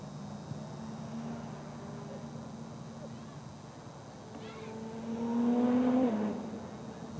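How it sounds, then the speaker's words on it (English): Race cars at the PIR race track drone faintly in the distance under the sounds of a girls' varsity soccer game. A rising, revving whine swells louder near the end. "Are they racing cars at PIR tonight?"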